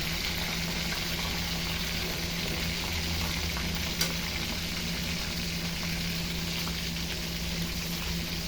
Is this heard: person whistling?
no